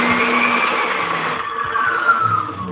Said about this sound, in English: Oh, that sounds like a table saw.